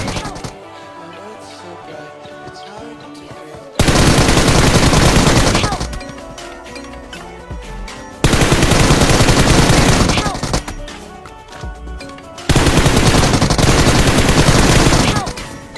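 Bursts of automatic gunfire from a PUBG/BGMI player drop shotting while going prone, three loud sustained volleys of rapid shots separated by quieter gaps with background game music.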